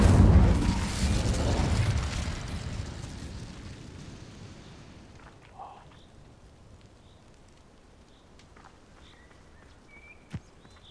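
An Incendio fire spell cast in Hogwarts Legacy gives a loud whooshing burst of flame that slowly fades, followed by a few faint small sounds and a brief sharp click near the end.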